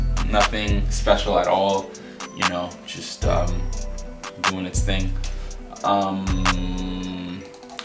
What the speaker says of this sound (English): the last sound that I added was the clap, very standard clap